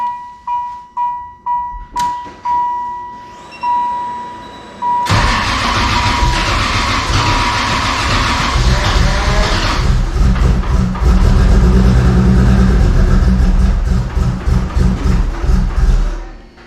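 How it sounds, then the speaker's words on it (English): Car engine that runs roughly and barely idles unless throttle is held: warning chimes and cranking come first, then it catches and runs loud and close with an uneven, surging note that pulses toward the end. "you're having to keep the gas in it just to get it to barely idle"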